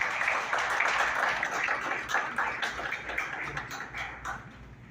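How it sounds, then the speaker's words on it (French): Sustained audience applause fills the hall at the inauguration ceremony of Haiti's sixth youth government, a dense, steady clatter of many hands that thins slightly toward the end. "Mesdames, Messieurs, sous vos applaudissements"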